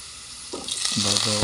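Onions sautéing in a pan for coconut-milk pakbet with shrimp, a sizzle that bursts up about halfway through and keeps hissing as the pieces hit the hot oil.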